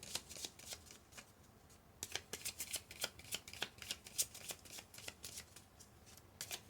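Tarot cards are shuffled by hand in quick, crisp riffling bursts that run continuously, close and fairly quiet, with no talking.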